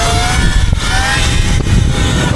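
An ERide Pro SS 3.0 electric dirt bike is ridden outdoors. A loud, constant rush of wind and tyre roar carries a faint whining motor tone underneath, with a couple of brief bumps.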